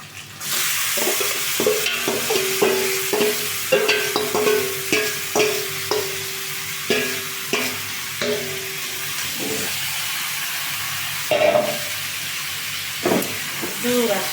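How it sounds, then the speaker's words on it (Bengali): Chicken with ginger, garlic, onion and green chili sizzles loudly in a pan and is stirred, with a series of rhythmic scraping strokes over a constant close frying hiss. "এই যে মাংসটা সব মশলা দিয়ে আদা রসুন পেঁয়াজ কাঁচামরিচ সব কিছু দিয়ে মাংসে রাখছিলাম দিয়ে দিই"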